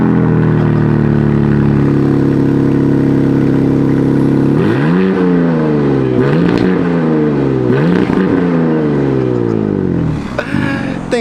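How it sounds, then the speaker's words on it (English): A BMW M car engine idles with a deep burble, then revs hard several times in rising, rasping bursts through a loud, aggressive optional M Performance exhaust, close by. "That's the optional M performance exhaust, right?"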